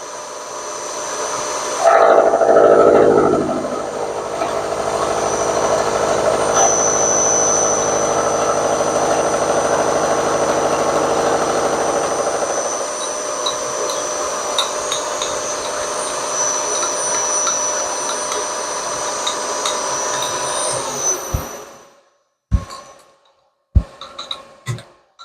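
A machine cuts across a metal cylinder while squaring it, giving a steady, loud grinding machining drone for about twenty seconds before it stops, followed by a few sharp knocks.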